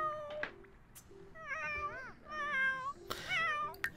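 Several cat meows from a cat in The Sims 4, rising and falling in pitch, close and clear against quiet game ambience, with brief clicks and knocks between calls.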